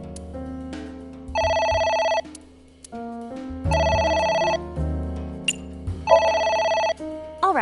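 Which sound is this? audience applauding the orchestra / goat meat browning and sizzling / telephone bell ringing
telephone bell ringing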